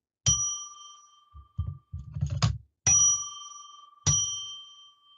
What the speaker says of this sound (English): I'm going to ring a bell 3 times now to declare sacred space